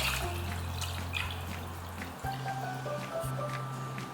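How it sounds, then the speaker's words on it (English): Water pours steadily into a pot of chicken bones as the first step of a Chinese-style chicken stock, producing a continuous close trickle and splash that pauses briefly partway through before resuming, with no talk over it. "Put the chicken bones in a pot and add 3 liters of water"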